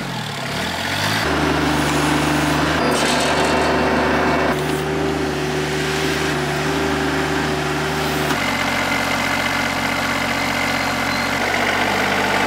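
A tractor engine idles steadily and loudly for the whole stretch, a low rumbling drone with harmonic hum, its pitch dropping slightly near the end, during work pulling out tree stumps for an off-grid garden fence.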